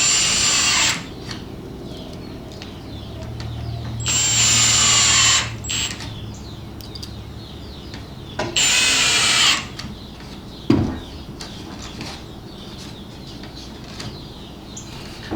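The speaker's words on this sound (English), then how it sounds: "Go ahead and drive your other screws." A power drill drives screws into wooden trellis rails in three close, loud bursts of whirring motor, each ending abruptly, with a single sharp knock from the wood between the later bursts.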